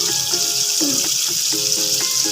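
A tomato mixture with a little sugar sizzles steadily in a pan as a utensil stirs it, scraping and tapping in a loose, repeated rhythm.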